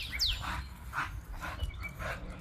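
A dog on a walk gives a few short, muffled barks and whines at a moderate distance, rising over steady low outdoor rumble with faint birdsong.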